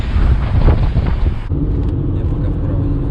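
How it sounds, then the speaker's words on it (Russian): Loud, rough wind buffeting the microphone, with a low vehicle rumble underneath that changes character halfway through. "Ветер такой пронизывающий."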